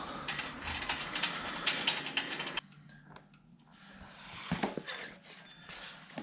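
A ratchet clicks in quick, faint bursts while a part is tightened down on a Doodlebug DB30 minibike being fitted with a Predator 212 engine, close by in a quiet workshop.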